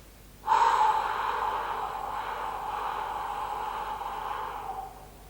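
A long, steady exhale during a yoga breathing exercise, a close breathy whoosh through the nose or mouth that starts abruptly, holds for about four seconds and then fades, with no talking over it.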